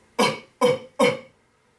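Three sharp, forceful coughs in quick succession, evenly spaced, close and loud, followed by quiet; coughs used to push out smoke rings.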